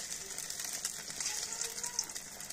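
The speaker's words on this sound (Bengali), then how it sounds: "পেঁয়াজ, মরিচ এবং লবণ দিয়ে এটা ফ্রাই করা হচ্ছে" Egg omelette with onion, chili and salt frying in a pan, a faint, crackling hiss with fine pops throughout.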